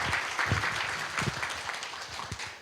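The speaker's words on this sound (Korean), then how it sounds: "큰 박수로 환영해 주시기 바랍니다." Conference audience clapping to welcome a presenter at a SketchUp training event, a moderate steady patter of many hands with a few louder individual claps standing out near the front.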